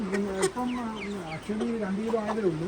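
A rooster on a farm that raises roosters for sale gives a few short, close clucks in a loose, uneven rhythm against a faint background.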